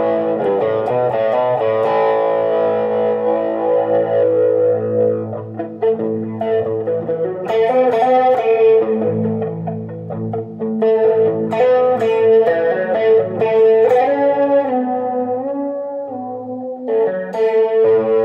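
Sustained electric guitar chords, heavily processed with distortion, chorus and a wash of reverb, playing continuously and loudly with brief dips between phrases.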